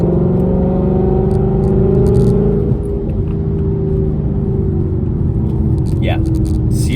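A Ford Mustang GT on Falken Azenis FK510 tires cruising a country road, a loud steady engine and road rumble with a brief rise in revs, with someone talking over it.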